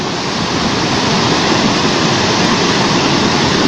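Floodwater coming down from the volcano rushes along a road in San Isidro, Tenango del Valle, a loud, steady, broadband roar of churning water that stays constant with no voices.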